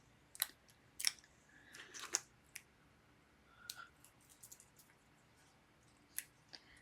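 Scissors trimming a piece of craft foam, a few soft, close snips and crunchy clicks spaced irregularly over a quiet background, with no speech.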